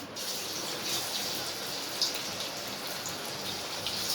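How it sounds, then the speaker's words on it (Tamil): Fish frying in hot oil in a pan, a steady dense sizzle and crackle that holds at an even level throughout, close and alone with no talk over it. "இப்போ எண்ணெய் காஞ்சிருச்சு, மீனை போட்டுக்கலாம்."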